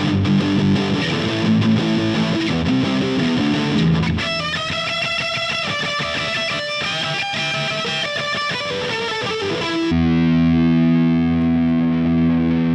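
An electric guitar plays through a Guitar Rig 5 Mesa Boogie amp simulation, heavily distorted chords and riffs ringing loud and continuous, shifting to sustained held notes near the end.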